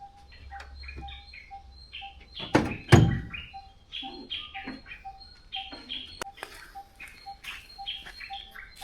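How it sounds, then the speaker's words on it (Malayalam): Birds chirp and call repeatedly in an open space, with a loud thump partway through and scattered small knocks. "പക്ഷികളെ സൗണ്ട് മാത്രമേ ഇങ്ങനെ കേൾക്കാൻ പറ്റുള്ളൂ"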